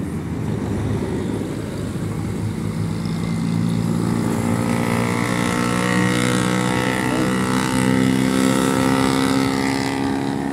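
Jeeps race along a highway, a steady loud engine roar that swells as vehicles pass close by, with no voices.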